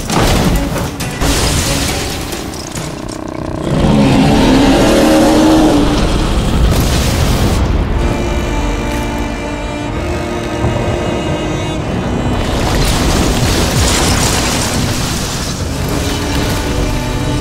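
Ballistas fire with heavy mechanical thuds, and a loud explosion booms in the video game Styx: Shards of Darkness. The blasts are dense and forceful, then rumbling game sound continues steadily behind them.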